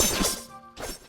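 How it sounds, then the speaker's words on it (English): Basic attack combo hit effect from the indie action RPG Colossus Eternal Blight: two loud, crunchy smashing impacts with a bright shattering edge, separated by a short ringing tail, heard alone. "we're going to be focusing on the main character's basic attack combo, which currently sounds like this."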